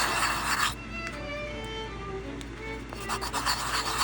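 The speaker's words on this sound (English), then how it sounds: "I keep sanding on the back here until it just breaks away" Steady, close rasping of sandpaper rubbed back and forth against a resin part of a Tamiya Tiger I model kit, continuous and fairly loud with no talking.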